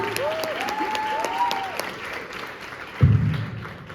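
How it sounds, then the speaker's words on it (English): Applause from an audience after a grade 12 drama day performance, steady clapping with a few whistles early on and a low thump near the end. "You deserve a big round of applause and a big hug."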